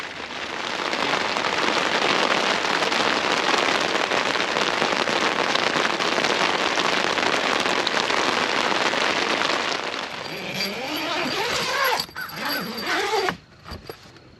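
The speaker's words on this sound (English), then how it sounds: "hope that rain goes away so I can at least get the tent put up while it's not pouring down rain on me" Heavy rain pours steadily onto a rooftop tent at a campsite, a loud, dense, unbroken hiss for about ten seconds. It then thins into scattered drops and a few sharper knocks near the end.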